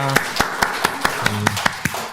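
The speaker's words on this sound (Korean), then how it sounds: "우리 하나님께 영광의 박수를 올려드리겠습니다" A small church congregation claps during Sunday worship in a Korean Presbyterian service, sharp rhythmic claps about four per second in unison, close and clear with a faint voice underneath.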